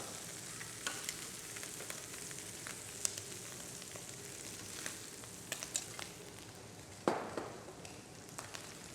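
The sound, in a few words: prawns searing in a paella pan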